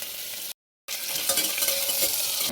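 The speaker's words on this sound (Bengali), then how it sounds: "আজকে ঘিয়ের মধ্যে এগুলো একটু সবজিগুলো ভাজবো ডালিয়াটা ভাজবো" Vegetables and dalia (broken wheat) fry in ghee with a loud, close, continuous sizzle and stirring, cut by one brief moment of silence before the frying resumes.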